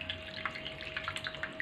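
Cold tap water runs over boiled cauliflower florets in a metal colander, a steady close splashing stream with small irregular drips and spatters, with no voices.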